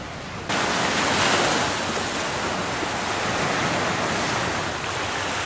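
Sea waves at a beach in the Maldives, a steady broad wash of surf that swells in at the start and keeps rolling continuously at moderate level, with no voices over it.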